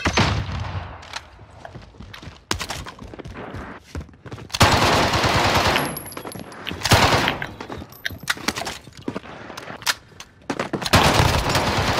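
Gunfire in a squad-based online shooter game crackles in repeated bursts of rapid automatic fire and single shots, loud and close, with booming impacts between volleys and no voices.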